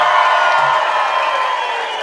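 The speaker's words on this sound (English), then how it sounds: "I think we can give a bigger cheer than that." A live crowd at a DanceRites finals dance competition cheers and whoops steadily as a broad, sustained roar.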